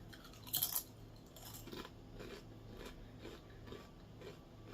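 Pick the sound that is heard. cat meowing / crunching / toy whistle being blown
crunching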